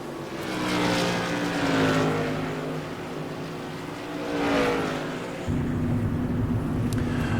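Modified race cars in the iRacing Whelen Tour Modified series at Myrtle Beach, in a pack of loud, droning engines whose pitch rises and falls steadily as they sweep past and circle the track.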